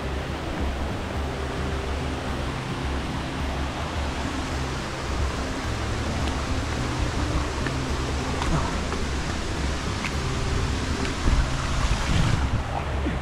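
Imugan Falls, a waterfall in Nueva Vizcaya, Philippines, gives a constant broadband rushing roar, steady and fairly loud, with faint wind buffeting and no talk.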